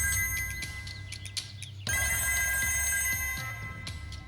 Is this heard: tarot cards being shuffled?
no